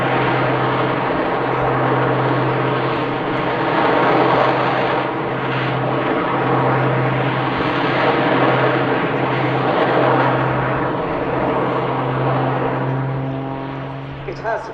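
Jet Pitts S2S aerobatic biplane, powered by a petrol piston engine plus jet engines, drones steadily overhead at an air show with a continuous humming engine tone, while a voice talks over it.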